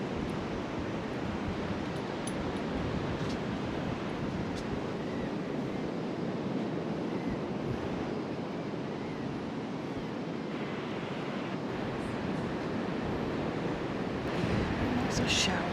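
Ocean surf on a Texas Gulf Coast beach, a steady broad wash of breaking waves mixed with wind buffeting the microphone, continuous and moderately loud throughout.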